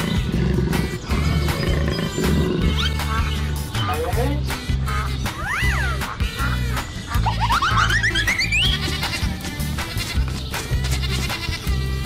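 A jaguar roar sound effect mixed over a steady musical backing with rising, whooping tones, loud and continuous throughout rather than a clear isolated roar.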